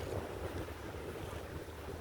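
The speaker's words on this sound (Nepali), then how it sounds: "आज अलिक हावा ज्यादा, छाल ज्यादा आएको रहेछ" Strong wind buffets the microphone at the seaside in Qatar while waves wash in, making a continuous low roar that stays faint.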